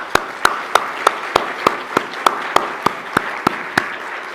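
Sharp, evenly spaced hand claps ring out about three times per second at an awards ceremony, a steady rhythmic clapping rather than a broad wash of applause.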